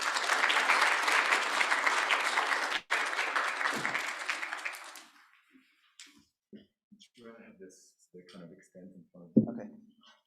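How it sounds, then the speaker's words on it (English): A symposium audience gives a round of applause that is full and steady for about five seconds, then quickly dies away, leaving a few faint scattered sounds and quiet movement. "A round of applause."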